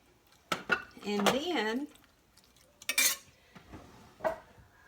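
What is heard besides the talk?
stirring casserole ingredients with a utensil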